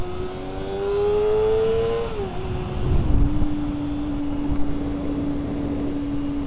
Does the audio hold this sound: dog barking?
no